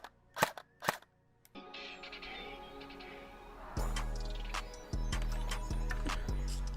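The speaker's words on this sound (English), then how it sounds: "I'm quite impressed with the electric blowback on this gun. In semi-automatic and in full auto, it quite nice sounding" A JG 3000 SA58 airsoft carbine with electric blowback fires close up: two sharp single shots, then a motor whir, then rapid loud mechanical full-auto bursts with a rhythmic clacking action.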